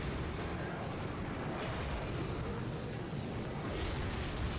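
An explosion in the video game Monster Hunter Generations Ultimate makes a loud, continuous roaring blast with a dense rumbling wash of noise that holds steady throughout.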